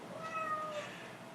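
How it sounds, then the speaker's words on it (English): A house cat meows insistently in one drawn-out, rising and falling call, close and fairly loud over a faint background hiss. "There's a kitty who is being very insistent about something"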